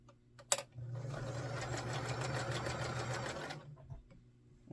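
A sewing machine stitches quilt pieces together in one steady burst of about three seconds, its rapid mechanical whirr close and clear, followed by quiet handling noises.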